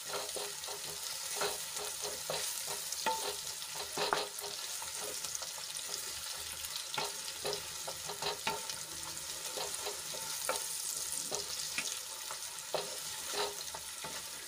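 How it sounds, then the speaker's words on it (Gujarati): Onion sautés in a pan with potato, garlic and chili paste: a steady loud sizzle and frying hiss with repeated stirring scrapes throughout, and no talking. "ડુંગળીને આછા ગુલાબી રંગની થાય ત્યાં સુધી આપણે એને સાંતળી લેવાની છે"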